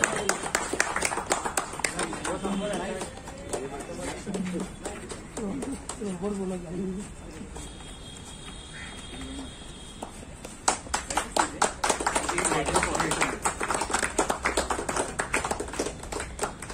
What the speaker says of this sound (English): A big round of applause, a big round of applause to the winning team.